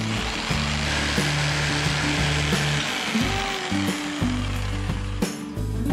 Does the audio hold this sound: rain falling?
no